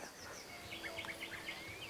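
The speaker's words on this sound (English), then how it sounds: "you can hear a nightingale in the background." A nightingale's clear chirps and whistles ring out faintly in the distance in the evening as a person speaks briefly, with a soft ambient hum throughout.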